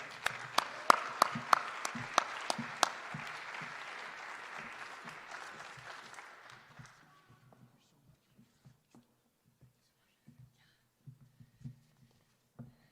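Applause from an audience at a school awards night, a moderate wash of clapping with a few sharp nearby claps that fades out after about seven seconds, leaving only scattered faint sounds.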